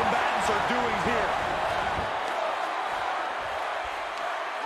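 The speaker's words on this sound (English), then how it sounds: "when you can't hear yourself think because the crowd's so loud" Loud, dense wrestling arena crowd roars continuously, a broad wash of noise with some voices rising out of it near the start.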